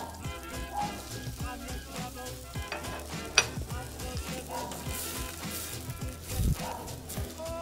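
Chopped onion sautés in butter and olive oil for shrimp and leek risotto, a steady close sizzle broken by frequent spoon scrapes and taps against the pan.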